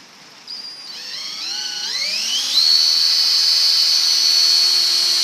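A power drill spins up with a rising whine, climbing in pitch over a couple of seconds and then holding a steady high, loud hum.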